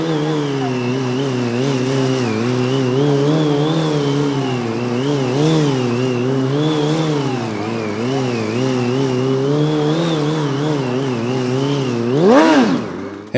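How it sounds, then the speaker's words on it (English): A stunt motorcycle ridden by a woman, its engine droning steadily with rising and falling revs, close and loud throughout, ending in a sharp rev swell. "Dasha just happens to like riding stunt bikes"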